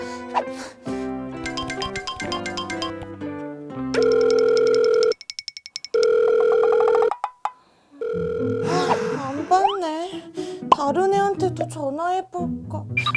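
A phone sounds tones: first dialing beeps, then a steady ringback tone with pauses between rings, followed by a brief musical flourish.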